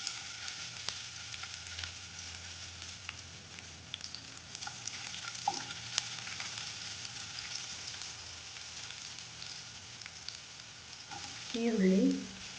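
Garlic and ginger fry in hot oil in a kadai with a soft, continuous sizzling hiss throughout. A few faint utensil clinks come through near the end.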